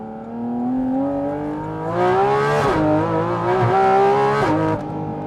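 A Porsche GT4 RS with its loud exhaust mode on accelerates hard, the engine note climbing steadily before two sharp gear shifts, then rising again, loud and close with no talk.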